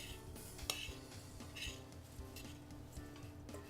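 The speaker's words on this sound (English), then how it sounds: "I'm going to give that a stir" A spoon stirs flax seeds, chia seeds and wheat germ in a bowl, giving soft scraping and rustling with a few sharp clinks of utensil against the dish, quiet and close.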